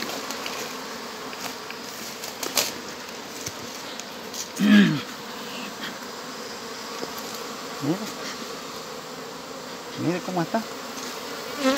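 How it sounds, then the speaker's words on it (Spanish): Africanized honey bees buzz steadily around an apiary's hives on a flowering day, with individual bees droning close past the microphone several times. Someone speaks briefly over the buzzing. "Ya vieron que esta abeja está bastante amarillenta."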